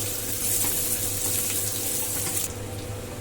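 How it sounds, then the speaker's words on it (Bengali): Chopped onion goes into hot oil for egg chicken fried rice, producing a continuous close sizzle and hiss that stays steady before easing slightly near the end, with no voices. "এখন আমি পেঁয়াজ কুচানোটা দিয়ে দিচ্ছি।"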